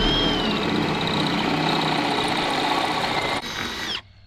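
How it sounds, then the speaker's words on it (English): A power drill drilling out bolts whines steadily at high speed, loud and close, then its pitch drops and the motor cuts off near the end. "Let's just drill them out."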